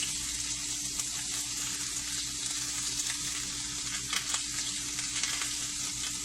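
Food sizzling in a frying pan as pieces are flipped, a steady close hiss with small scrapes and pops throughout, no talking.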